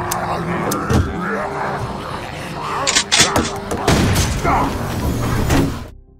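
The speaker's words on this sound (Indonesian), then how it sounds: "ada suara tembakan" Gunfire in a zombie film, several sharp bangs and booms breaking through a dense, busy movie soundtrack of rumbles and clatter, loud and close.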